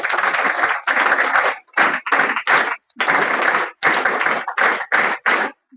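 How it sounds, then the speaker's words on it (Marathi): Bursts of hand clapping from an audience at a school supplies distribution event, loud and close, coming in several distinct waves with short gaps between them. "त्याबद्दल तुम्ही सर्वांनी टाळ्या वाजवून त्यांचं अभिनंदन करावं"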